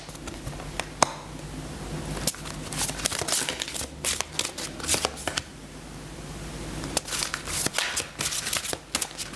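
Tarot cards are handled and laid out one after another, giving a steady run of close papery slaps, flicks and shuffling rustles with no talk.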